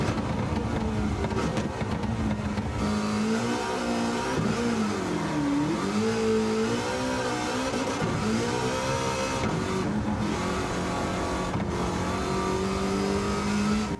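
A DeLorean with a swapped engine in Gran Turismo 7 revs loudly and continuously, its pitch rising and falling through repeated throttle blips and shifts, with no talk.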